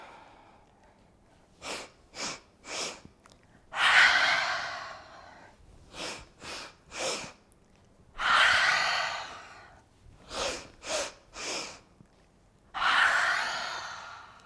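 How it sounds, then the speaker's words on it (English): Large open-mouth exhales during breath of joy yoga breathing: three quick sharp inhales followed by a long, loud whooshing exhale, repeated three times in an even rhythm, close and clear with no talk. "Inhale, inhale, inhale. Open the mouth, large exhale as you bow forward."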